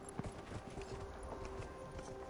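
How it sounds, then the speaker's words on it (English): Horse hooves clip-clop at a steady trotting rhythm in the video game Dragon Age: Inquisition, faint and even against a low background. "now is Iron Bull gonna ride the horse"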